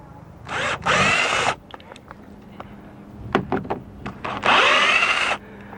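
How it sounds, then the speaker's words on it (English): Two bursts of a high-pitched power drill grinding into a metal rivet on a boat's rub rail, separated by a quiet stretch of small clicks and taps. "when you're drilling it out, you want to drill the head out only."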